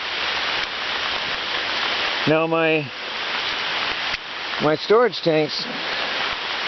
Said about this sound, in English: it's rained like this intensely all day